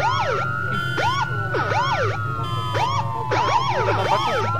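A police siren wails from a vehicle in Arma 3 Altis Life, with several overlapping rising and falling tones cycling loudly and continuously over engine rumble.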